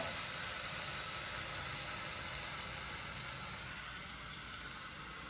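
Garlic sizzles in a hot pan for spaghetti meat sauce, a continuous close hiss of frying oil that eases slightly toward the end.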